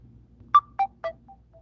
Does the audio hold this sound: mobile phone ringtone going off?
yes